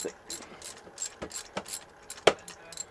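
A spark plug spanner with an extension is ratcheted on a Suzuki Hayabusa, giving a quiet, steady series of close, crisp clicks at a regular rhythm, with one sharper knock partway through.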